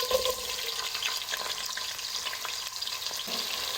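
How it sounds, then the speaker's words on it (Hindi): Onions are added to hot oil already holding bay leaf, cumin, cloves and black cardamom for kadhi pakora, producing a steady close crackling sizzle with occasional stirring scrapes. "अब हम इसके अंदर प्याज ऐड करेंगे।"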